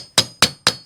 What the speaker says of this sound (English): On the back side, it's pretty much a press fit right from the get-go, so I'll use my brass hammer